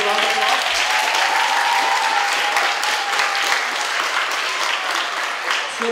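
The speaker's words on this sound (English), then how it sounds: "Give her a round of applause." An audience at a school DARE graduation claps loudly and continuously, a full, sustained round of applause with faint voices mixed in.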